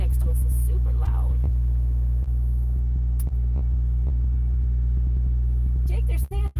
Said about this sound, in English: Jake, that truck next to us is super loud.